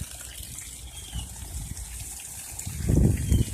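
Water gushes from an unconnected spigot outlet in a home garden setup, a steady splashing flow that swells louder and heavier near the end.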